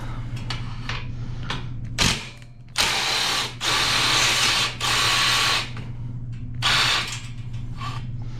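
Ratchet wrench clicking in repeated bursts while removing bolts from a small brace bar on a Grom clone motorcycle, close and loud, with short pauses between runs over a steady background hum.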